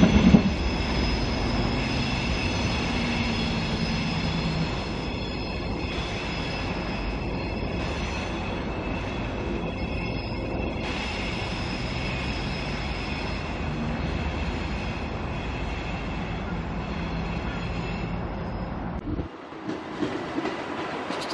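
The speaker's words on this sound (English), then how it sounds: "Another train departing us, NGR." An NGR train passes near the former Mayne railway station in Brisbane, a steady loud rumble of wheels and cars rolling by for about twenty seconds, with faint squealing, cutting off abruptly near the end.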